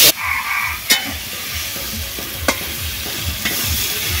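A paste of ginger, cumin and mustard fries and sizzles in a pan with a steady crackle. A spatula stirs it, making a few sharp scrapes against the metal at a slow, regular pace. No one speaks.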